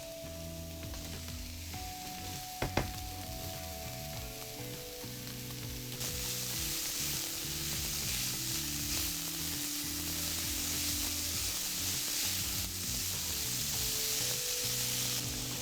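Tomatoes frying in olive oil in a pan give a continuous close sizzle and crackle that grows fuller after a few seconds, with a couple of sharp clicks early and low tonal music beneath.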